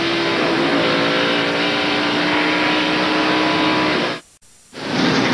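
Race cars roar past under caution at Sears Point International Raceway, California, in a steady, loud engine drone, cutting out briefly to near silence before the engine noise resumes.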